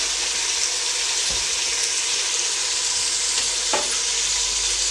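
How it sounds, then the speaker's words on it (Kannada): Fenugreek leaves fry in hot oil for a fenugreek pulao, producing a loud, even hissing sizzle throughout, with a couple of brief stirring scrapes. "ಚೆನ್ನಾಗಿ ಫ್ರೈ ಮಾಡ್ಕೊಳ್ತೀನಿ ಮೆಂತ್ಯ ಸೊಪ್ಪನ್ನು"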